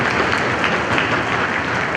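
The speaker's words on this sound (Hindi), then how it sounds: "तालियां तो बजे आपकी।" Dense, steady applause from a large crowd, loud and continuous throughout.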